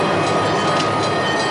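A train rolls past close by on the rails with a loud, steady roar and a faint metallic rumble from the wheels, and no voices are heard.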